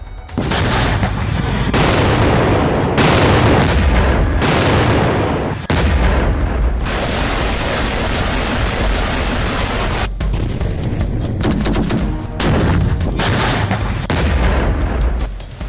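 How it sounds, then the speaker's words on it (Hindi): Israeli bombardment and gunfire on Gaza: loud, dense, continuous blasts and crackling shots with heavy rumbling that barely lets up for the whole stretch. "इजराइल के बारूदी प्रहार से गाजा फिर कांप उठा।"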